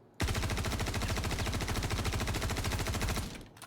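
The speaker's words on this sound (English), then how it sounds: "we'll shoot this wall" Rapid automatic gunfire in a video game, fired in a steady unbroken burst at a wall for about three seconds, loud and close, then cutting off abruptly.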